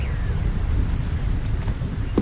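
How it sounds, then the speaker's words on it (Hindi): Heavy rain in a Hindi bird cartoon: a steady, loud rushing downpour filling the scene, with no voices. "बाहर बहुत तेज बारिश है"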